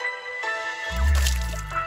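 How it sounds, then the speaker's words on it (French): Water splashes onto a W King D8 Mini Bluetooth speaker, a brief wet burst with a low thudding swell, close and fairly loud over the speaker's ongoing sound. "l'enceinte est censée résister aux éclaboussures, c'est ce qu'on va voir, mon Claude"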